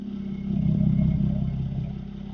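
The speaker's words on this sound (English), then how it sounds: "And I'll start the car up to check for leaks" A Mercedes C43 with the M276 engine cranks and catches after an oil change, a brief close rumble that swells quickly then settles into a steady low idle.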